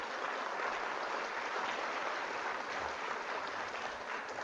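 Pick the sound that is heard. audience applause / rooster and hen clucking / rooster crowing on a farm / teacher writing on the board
audience applause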